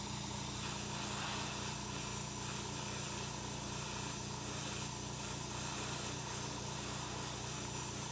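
Aerosol spray paint hisses steadily and close for several seconds while a tattoo reference design is painted, a continuous broadband rush with no talking.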